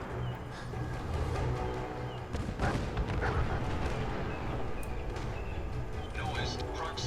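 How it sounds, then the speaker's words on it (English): An explosion in the video game Fallout 4 during a firefight, a loud broadband blast around the midpoint amid continuous dense game noise and gunfire-like bursts, with a player voice talking over the action. "And that's an explosion."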